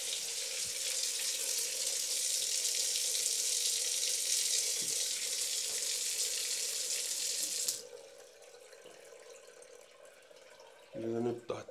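Tap water drawn from a well gushes in a steady, close, bright hiss for nearly eight seconds, then shuts off abruptly into a quieter room tone, with a voice briefly speaking at the very end.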